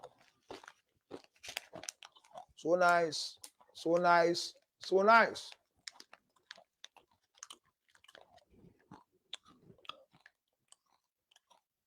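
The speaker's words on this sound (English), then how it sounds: "Anytime you are chewing ginger, make sure there's water around you." Ginger honey chips crunch and get chewed up close in quick, crisp bites scattered through the moment, with a voice speaking a few short phrases in the middle.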